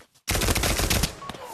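A sudden burst of automatic gunfire in the Pavlov VR shooter, loud and close, a dense rattle of shots lasting just over a second after brief quiet.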